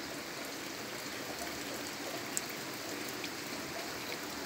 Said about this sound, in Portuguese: Água escorrendo ali já.